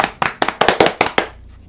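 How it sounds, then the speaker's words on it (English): Hand clapping during a game stream, about seven sharp, evenly spaced claps in quick succession heard up close, then quiet. "What's up with the random clapping?"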